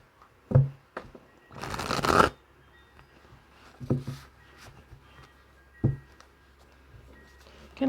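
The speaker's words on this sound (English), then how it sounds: "I'm going to give the cards a really good shuffle." A deck of tarot cards is shuffled in several short riffling bursts, one longer burst near the start and scattered taps and clicks between, close and otherwise quiet.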